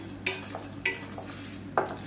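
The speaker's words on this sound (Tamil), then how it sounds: "சேர்த்துட்டு லேசாக ஒரு பரட்டிக்கலாம்." Grated coconut stirred in a pan with a spoon, three distinct scraping strokes at spaced intervals over a low background hiss, close and fairly quiet.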